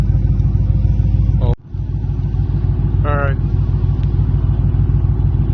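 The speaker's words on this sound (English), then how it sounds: "It's got that nice deep tone that I was looking for." A Trans Am engine idles through Speed Engineering true dual exhaust fitted with baffles, a deep, steady exhaust rumble throughout, briefly dipping once; a person speaks a single word over it.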